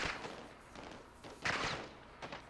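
Gunfire in the Modern Warfare 2 campaign, a few muffled bursts and thuds rising over a busy battle backdrop, with one louder crack near the middle.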